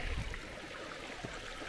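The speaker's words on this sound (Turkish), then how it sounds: "Evet, şelalenin olduğu yere geldik. Görünüşe göre su da var. Çok güzel bir şekilde su akıyor." Water flows steadily at a small waterfall in a beech forest on a peninsula, a soft broadband rush and trickle heard faintly and evenly throughout, with no voices.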